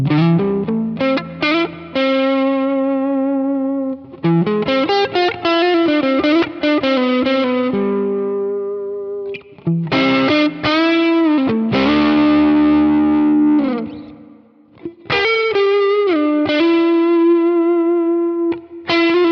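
An electric guitar played through a Neural DSP Nobel low-gain amp capture, with chorded strums and melodic phrases, lightly driven and effects-coloured, loud and continuous with brief gaps and no talk.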